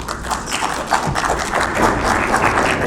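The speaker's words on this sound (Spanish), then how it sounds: "Escuchemos pues a Julián y César Alejandro, recibámoslos con un aplauso." Audience clapping at a book presentation in a pavilion at the Bogotá book fair, steady dense applause filling the room for about three seconds with a fairly loud, even level.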